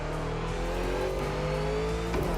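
A 7-litre V8 American muscle car with a huge blower, driven in The Crew Motorfest, drones loudly and steadily, its pitch climbing slowly as it accelerates, with no voices over it.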